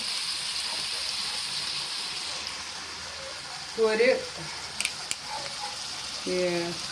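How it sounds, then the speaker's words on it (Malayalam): Lemon pickle liquid in a pan simmers down into a thick paste, a soft continuous sizzle and bubbling with a few clinks and a voice talking over it. "ആ വെള്ളം എല്ലാം കൂടെ തിളച്ച് ഇതുപോലൊരു കുഴമ്പ് പരുവമാകുമ്പോൾ"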